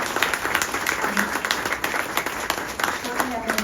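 An audience at a forum applauds, a dense patter of clapping running throughout while a person speaks over it.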